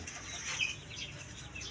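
Gaok hens on a village chicken farm, soft clucking and murmuring from a small group of birds, fairly faint and close, with no talking.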